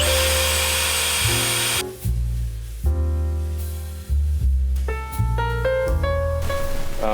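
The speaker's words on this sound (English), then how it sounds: "let's drill through the center" A drill whines loudly boring through the center of a metal part, its pitch rising and dropping as it bites and slows repeatedly, with a high metallic screech cutting through the steady grinding.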